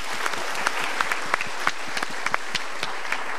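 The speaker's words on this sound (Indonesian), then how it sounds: "Kita berikan tepuk tangan dukungan dulu." A studio audience at a televised Indonesian motivational talk show claps together in a dense, steady burst of applause with sharp individual claps standing out, moderately close, and no talking over it.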